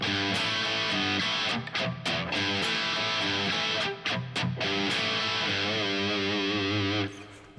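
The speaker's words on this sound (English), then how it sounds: "For that part, you're adding more mutes in between the chords" Distorted electric guitar plays a steady eighth-note rhythm of chords with muted strums in between, loud and continuous with brief choppy gaps, and no voices.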